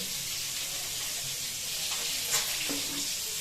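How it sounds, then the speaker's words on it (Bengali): An egg fries in a pan with a steady, close hiss of oil that holds constant and is broken only by a faint clink near the end. "আর এদিকে আমাদের ডিমটা ফ্রাই হচ্ছে"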